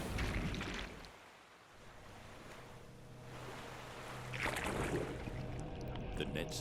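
Wind and waves roar steadily at sea around a fishing boat as its crew draws in the nets, a broad rushing wash that dips briefly and then swells louder.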